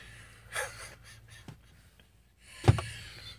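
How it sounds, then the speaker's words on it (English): Heavy, ragged breathing and gasps from a worker after hard physical labor on bridge steel, coming in two or three close, audible bursts separated by quieter pauses. "you may be able to hear me breathing, that's called hard work."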